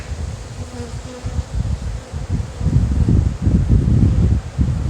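A close, low buzzing drone of honey bees on a hive frame swells and pulses, growing louder over the few seconds with some rustling.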